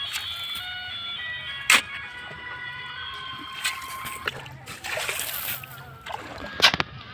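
Water splashes and sloshes in short bursts as workers lift sand by hand from a river at a picnic spot in Bodora, with a few sharper splashes standing out over steady background noise.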